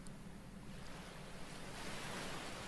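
Sea waves washing in a steady, soft surf roar with some wind noise, faint and continuous, no voices.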